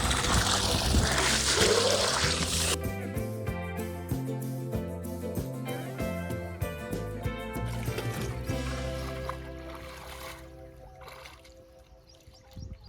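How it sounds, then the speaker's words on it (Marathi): Water gushes steadily from a running electric pump on a farm during rice-planting season, a loud rushing stream for a few seconds before music takes over. "इथं मोटर सुरू आहे."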